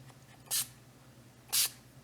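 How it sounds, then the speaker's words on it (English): Spray can misting release agent onto a mold for casting custom head sculpts, two short hissing bursts about a second apart, close and clear over a faint background hum. "Now we're going to spray it one more time just to be nice."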